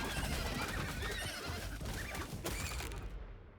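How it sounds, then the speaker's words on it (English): Horses whinny and neigh in a video game over a dense, steady background of noise, with cries rising and falling throughout. "The cries of the horses, so comforting."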